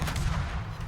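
Warship guns fire in World of Warships, a short, heavy burst of booming naval gunfire with deep rumbling low end, loud and close.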